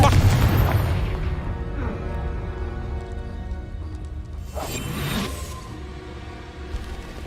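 Confringo blasting spell exploding in the wizarding video game Hogwarts Legacy: a loud low boom at the start fading into a rumbling tail, followed later by a whooshing burst and fainter crackles.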